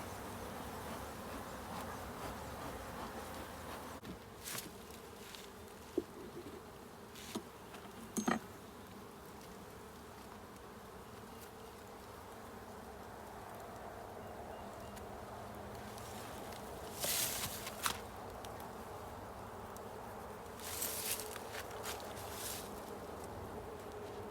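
Honey bees hum steadily around an opened hive during a spring inspection, with a constant dense buzz and occasional faint knocks and rustles of frames, no speech.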